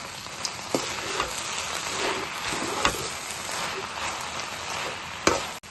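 Okra pieces sizzle and fry in a covered pan in a steady broadband hiss, with a few sharp clicks and pops standing out over the continuous crackle.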